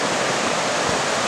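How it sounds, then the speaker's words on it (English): The clear Duckabush River on the Olympic Peninsula gushes beside a trail, a loud, steady, close-up roar of rushing water with no break. "clear and gushing Duckabush River"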